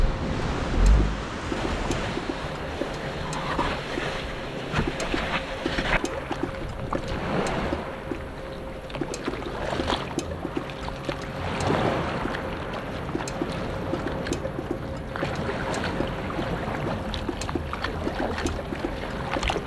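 A homemade primitive raft drifts on open water, with steady lapping and splashing against the craft under constant wind rumble, close and continuous throughout, no talk.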